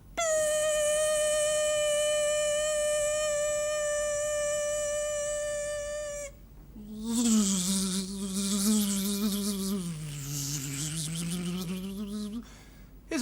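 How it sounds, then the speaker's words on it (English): A fly's buzzing held as a steady, loud drone with a clear pitch, then a shifting, wavering buzz that rises and falls after a short break, with no one talking. "But off goes the fly."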